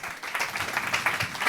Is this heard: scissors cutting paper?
no